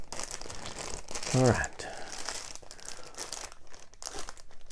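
Small acorn-shaped parts from a 1934 Philco Model 66B radio go into a bag that crinkles sharply up close for a moment, alongside brief speech and soft handling rustles.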